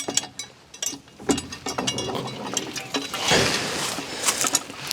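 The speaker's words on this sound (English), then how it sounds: "So let's unscrew this pitcher pump." A metal pitcher pump being unscrewed gives off close ratcheting clicks, scrapes and irregular metallic clanks in quick uneven bursts outdoors.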